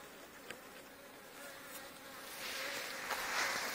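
Honeybees buzzing around a hive as a new mated queen is introduced, a dense continuous hum of many insects close by that swells slightly louder toward the end.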